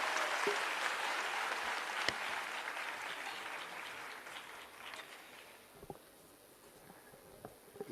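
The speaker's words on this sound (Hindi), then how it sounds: "जोरदार तालियों के साथ स्वागत।" Applause from an audience welcoming the chief minister at a state-level World Disability Day award ceremony at a Lucknow university; sustained clapping that gradually fades and thins toward the end, with a few scattered claps.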